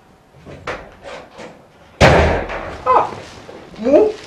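A door bangs open in a single sharp, loud thud, with people speaking before and after it.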